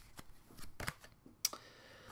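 Tarot cards being shuffled by hand, a few short riffling and slapping bursts, quiet and close, with no talking.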